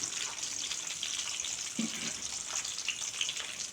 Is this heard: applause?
no